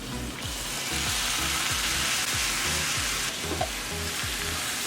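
Square-cut pork pieces, washed in vinegar, fry in masala for Kerala pork dry fry, giving a loud continuous sizzle with a steady rhythmic scraping or thumping underneath.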